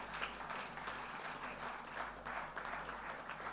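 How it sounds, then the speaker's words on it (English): Audience applause at an HR conference in Chennai, India: steady, dense clapping from a hall crowd, fairly faint and distant, swelling slightly in waves over a low constant hum, with no voices. "Can we have a big round of applause for Augustus?"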